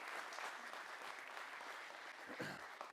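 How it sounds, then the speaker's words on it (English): An audience at a mindset talk applauds, a steady wash of many clapping hands, fairly faint and distant, with a slight swell near the end. "Round of applause."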